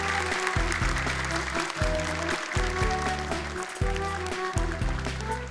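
Applause from a studio audience greets the contestants at a Quran memorization competition show, steady clapping throughout over a loud repeating music bed.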